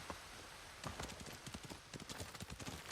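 Horse hooves clip-clop at a quick, uneven gallop in the video game Ghost of Tsushima, loud and close with a rhythmic pounding that steadies after a brief pause, with no talking.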